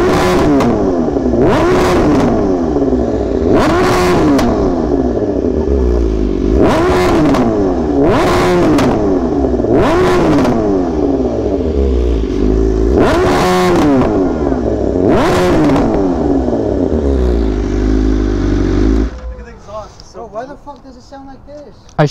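BMW M1000RR superbike running on 87 pump fuel, its engine blipped in a loud close series of sharp revs that rise and fall about every two seconds before dropping away near the end.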